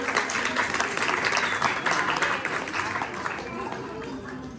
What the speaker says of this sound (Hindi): तालियां भी बजा दे बच्चों के लिए।